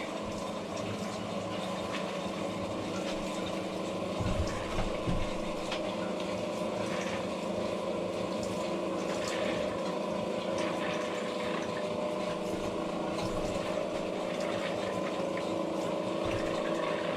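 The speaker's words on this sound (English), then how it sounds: "You hear the pump kick on, get the residual water, and we have pink." An RV water pump hums steadily throughout while winterizing a ProLite Lounge trailer, a continuous motor drone with gurgling water, loud and close, with no talk.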